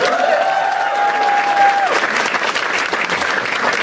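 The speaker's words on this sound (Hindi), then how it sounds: "एक बार बसीर के लिए ताली बजाओ सब लोग" An audience at a comedy roast show applauds, continuous dense clapping with a brief whistle-like tone over the first two seconds, no clear speech.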